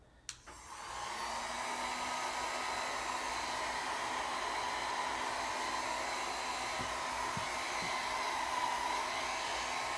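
A hair dryer blows steadily on acrylic paint brushed thickly onto a canvas, starting with a click and then roaring close and continuous with no talk.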